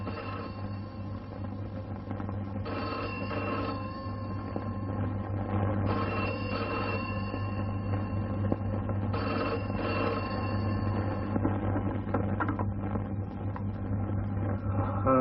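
Old-fashioned telephone bell ringing in repeated bursts about every three seconds, with a steady low hum underneath and no talking.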